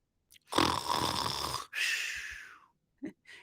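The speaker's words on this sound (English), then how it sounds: "That is snoring." Two loud, rasping snores close by, one long rough inhale followed by a fading breath, then a couple of short faint sniffs.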